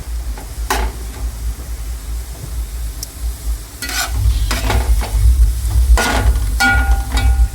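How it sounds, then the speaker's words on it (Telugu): Chopped onions and green chillies fry in hot oil with a continuous crackling sizzle and sharp spoon scrapes against the pan, growing louder and denser partway through. "ఒక 5 టేబుల్ స్పూన్స్ ఆయిల్ వేసి ఆయిల్ వేడెక్కిన తర్వాత ఆనియన్స్ కట్ చేసి వేసాము."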